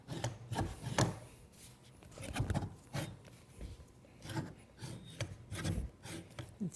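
A Triton TDJ600 dowel joiner gives a faint, gritty grinding rasp in repeated short bursts, each scrape rising and fading in an uneven rhythm with nothing else heard.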